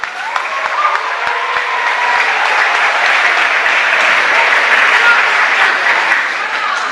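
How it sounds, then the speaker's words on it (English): Sustained audience applause at an evening school board meeting, a thick wash of many clapping hands that swells slightly and holds steady for several seconds, loud and close. "I'd like to start by asking everybody to join me in applauding each and every one of you for coming out here tonight"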